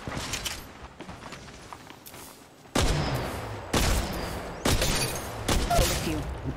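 Gunfire in Apex Legends Mobile: loud broadband bursts of shots hit in several distinct volleys, with quieter scattered shots and movement between them.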